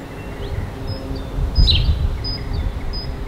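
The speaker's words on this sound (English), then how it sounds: "Listen to the birds," Birds chirp outdoors beside a furniture workshop, with brief high tweets repeating every second or so over a low steady background rumble, with no talk.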